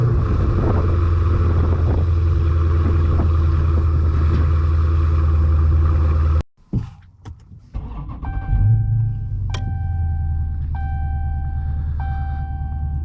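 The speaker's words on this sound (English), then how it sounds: "let's give you that startup sound" An Alpina car's engine running loud and deep right next to the stock exhaust, a heavy low rumble for several seconds, then an abrupt cut to quieter cabin sounds with soft electronic chimes.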